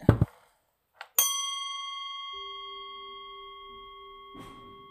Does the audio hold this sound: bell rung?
yes